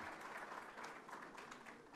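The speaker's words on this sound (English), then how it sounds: "Je vous prie d'applaudir, s'il vous plaît." Applause from the audience at an IDA summit of heads of state in Senegal, a steady, distant wash of clapping held at low level throughout.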